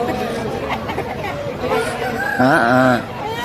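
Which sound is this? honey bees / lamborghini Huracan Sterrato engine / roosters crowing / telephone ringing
roosters crowing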